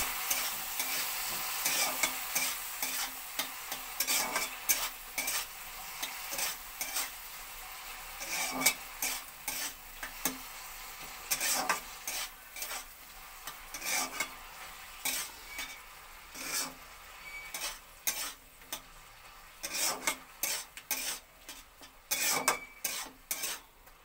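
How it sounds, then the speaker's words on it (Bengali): Food frying in a pan with chili powder and turmeric, a soft sizzle beneath frequent scraping and clinking stirs of a utensil against the pan, irregular and close, with no talking. "একটু লঙ্কার গুঁড়ো দিয়ে এটাকে ভালো করে ভাজতে হবে।"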